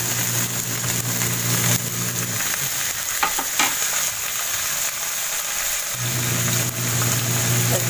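Kangkong adobo with dried fish sizzles loudly in a pan after vinegar is poured in, a dense steady frying hiss with a few clinks midway and a low hum fading in and out.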